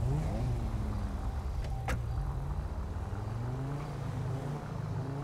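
A Banshee sports car engine revs steadily in a driving video game, a loud continuous drone rising and falling in pitch with a brief sharp click partway through.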